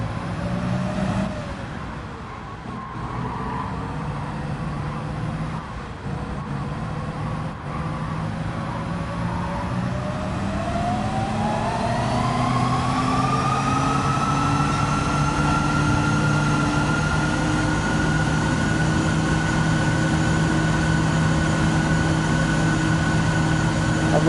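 Corvette CX concept hypercar in Gran Turismo 7, a steady engine drone that climbs in pitch as the car accelerates along a backstretch, sustained and fairly loud with no talk over it.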